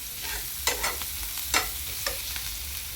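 Fresh coriander and garlic-ginger paste fry in hot oil with a close, bright sizzle, broken by several sharp stirring scrapes at an uneven pace.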